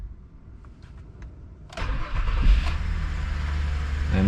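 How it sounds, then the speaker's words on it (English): A Suzuki Grand Vitara V6 sits quietly with the ignition on, then cranks briefly and fires, settling into a loud, steady close-up idle. "Let's turn the ignition on."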